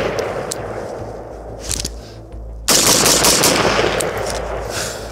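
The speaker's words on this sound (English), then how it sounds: "let's go ahead and see what the recoil is like, kind of shooting this thing pretty rapid fire" A 7.62x39 AR-15 fitted with an A2 flash hider fires in a rapid string of loud, close shots that run together. A short lull comes before a louder, sustained burst.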